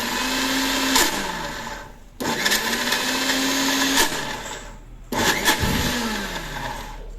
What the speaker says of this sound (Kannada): ಮಿಕ್ಸಿ ಜಾರಿಗೆ ಹಾಕ್ಕೊಂಡು ಒಂದೇ ಒಂದು ರೌಂಡ್ ಗೀರ ಅನ್ಸ್ಕೊಂಡ್ರೆ ಸಾಕು